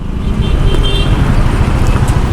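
Heavy road traffic on a busy city road, a steady loud low rumble of engines close by with a few faint, brief horn toots poking through.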